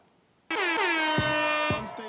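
A single loud air horn blast blares suddenly, sustained for over a second before tapering off, close and piercing.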